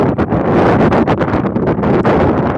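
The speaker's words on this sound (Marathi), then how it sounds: "आणि मस्त असा वारा सुटलेला घरी जायला नको वाटते" Strong wind buffets the microphone in a continuous, rough roar that gusts and surges without a break.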